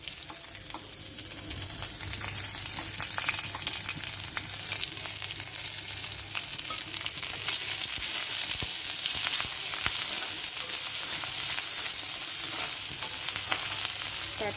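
Onion fries in oil in a pan while a fish curry is being prepared, a steady, moderately loud crackling sizzle that continues throughout with scattered pops and occasional stirring sounds.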